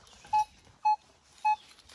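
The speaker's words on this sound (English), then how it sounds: "I have a nice signal on my Equinox." A Minelab Equinox metal detector, sweeping in New England woods, gives four short, evenly spaced beeps over a target, each tone clear and alone against a quiet background.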